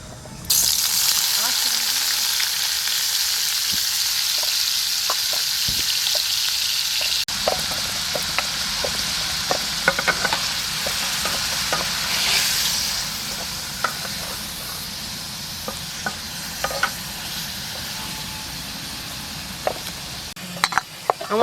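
Paneer frying in a hot pan for spinach paratha, a steady close sizzle that hisses throughout and eases slightly partway, with occasional small pops and clicks.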